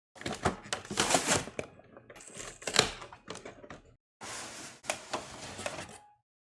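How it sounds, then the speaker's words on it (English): Pokémon Celebrations Pikachu VMAX box being opened, with a close series of clicks, taps, scrapes and cardboard rustles in irregular bursts, separated by brief pauses. "So let's cut to the chase, open this up."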